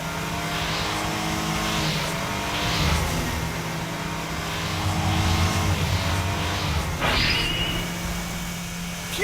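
Animated race cars, the Flame and Steel models, speeding up a spiral track: repeated engine whooshes rising and falling as they pass, a sustained motor hum underneath, and a sharp swerving squeal near the end.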